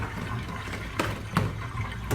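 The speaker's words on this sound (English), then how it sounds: "The rest of this just goes right down the drain." Sanitizer solution pours down a sink drain during home beer brewing, a soft watery trickle with a few faint splashes and knocks.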